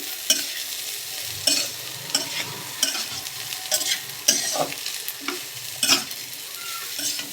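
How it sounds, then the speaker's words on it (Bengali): Pointed gourd and potato pieces fry together with poppy seeds in oil, a continuous close sizzle punctuated by regular scraping knocks of a spatula stirring the pan. "এবারে পটল আলু সব একসঙ্গে ভেজে নেবে।"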